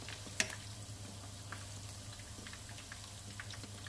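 Fish and squid cakes fry gently in a pan with a soft, steady sizzle at low volume, a single sharp clink near the start and a constant low hum underneath.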